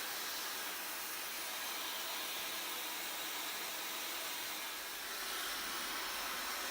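Dyson Supersonic hair dryer blowing on a low heat setting, giving a steady, even airy hiss that stays unbroken for the whole stretch, with no one speaking.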